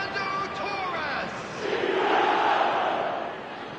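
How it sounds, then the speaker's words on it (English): Stadium crowd noise in the eFootball soccer game during a Liverpool match, a broad swelling roar of chanting fans that rises mid-clip and fades back, heard alone without commentary. "The crowd are calling for this to be put to bed."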